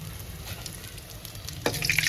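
A piece of fish fries in oil in a pan with a soft, steady sizzle, and a brief clatter near the end sounds as it is lifted out.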